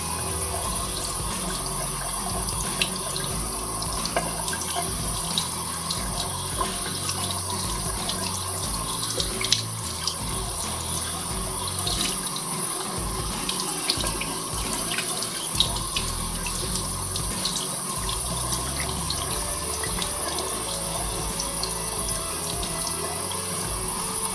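Water from a running tap streams steadily over a Samsung Galaxy Z Fold 6 smartphone, a continuous loud splashing hiss that holds on for the whole stretch with no voices.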